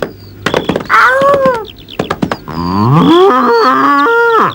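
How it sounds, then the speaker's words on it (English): A loose bull moos loudly and near, in long drawn-out bellows, with a few sharp thunks and knocks between calls and no talking. "Oh no, it's Boomer the bull."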